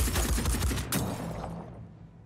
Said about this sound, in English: Now, we are taking a reaction fire.